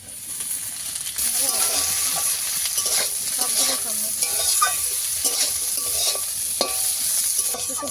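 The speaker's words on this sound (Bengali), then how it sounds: "সমস্ত সবজি ভালো করে ভাজা হয়ে গেছে" Vegetables with capsicum and green chillies sizzle loudly in a hot pan up close, with a spatula scraping and clinking against the metal as they are stirred.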